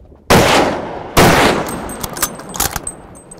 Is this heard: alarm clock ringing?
no